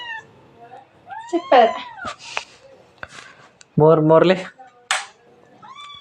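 A cat meows several times in short rising and falling calls, fairly close, interleaved with children and adults chatting in a lively home setting.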